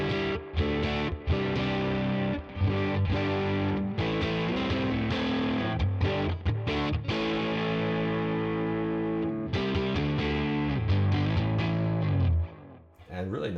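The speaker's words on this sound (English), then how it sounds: "if you crank it all the way up, you get that kind of almost exploding speaker sound" An overdriven Deluxe Reverb-style guitar amp tone from the Neural DSP Tone King amp-simulation plugin, cranked fully up, a loud, saturated, almost breaking-up speaker sound played as a series of chords and notes with short gaps.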